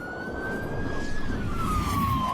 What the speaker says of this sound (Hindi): लेकिन तभी पुलिस की गाड़ी आकर रुकती है।